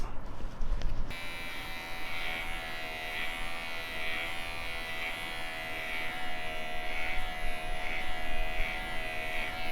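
An electric hair clipper fitted with a 6 mm guard cuts a man's hair, a steady close buzzing hum that runs continuously, briefly sharper at the start.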